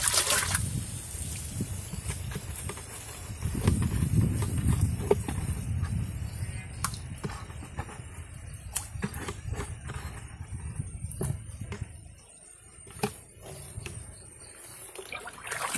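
Hands mixing jeevamrutha liquid fertilizer, a wet, sloshing, churning sound that runs steadily close by with small splashes, briefly easing before resuming.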